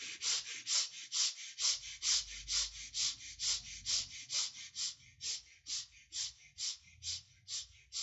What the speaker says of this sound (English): Quick and short breath into the rib cage.